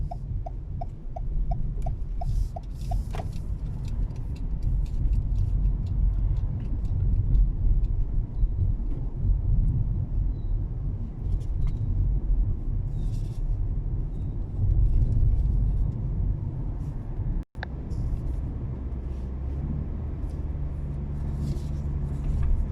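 A new-generation Toyota Corolla rolls over a rough, broken road, its low cabin rumble steady and loud, with knocks and rattles from the bumps and one sharp thud near the end.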